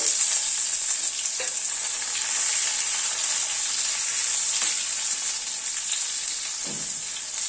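Boiled potatoes fry in oil with reddened garlic and spices, making a loud, bright, continuous sizzle with a few soft stirring knocks.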